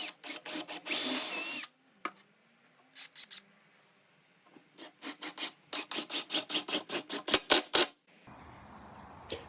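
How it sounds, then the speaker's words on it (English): Bursts of power drill noise driving screws into studs: a drill whirring, then a quick run of rapid rattling pulses, with pauses and scraping between them. Close and fairly loud, no speech. "I'll just be drilling at a slight angle and pre-drilling and putting some screws in"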